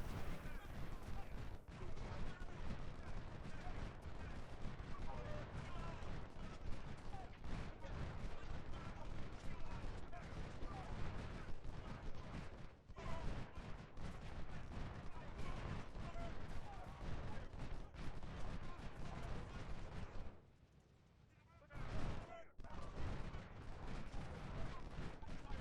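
Artillery and massed musket fire from the Ultimate General: Civil War game's Gettysburg battle rumble in a dense, continuous barrage of overlapping booms and crackling volleys, broken by a brief near-silent pause before the firing resumes.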